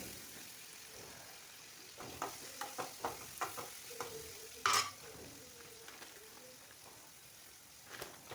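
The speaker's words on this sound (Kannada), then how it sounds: "ಇದಾದ ತಕ್ಷಣ ಸ್ವಲ್ಪ ಟೊಮೆಟೊ ಇದನ್ನು ಮಿಕ್ಸ್ ಮಾಡ್ಕೊಂಡು ಫ್ರೈ ಮಾಡ್ಕೊಳ್ಳಿ" Tomato is stirred as it fries in a pan with onions for a cut idli dish. A soft sizzle runs throughout, with a run of quick spatula scrapes and taps in the middle and one sharper clink.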